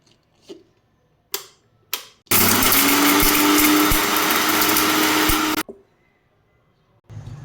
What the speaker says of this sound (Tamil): இந்த அளவுக்கு குறப்பாக அரைச்சி எடுத்துக்கலாம்.